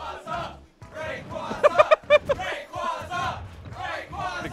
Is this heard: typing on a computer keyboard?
no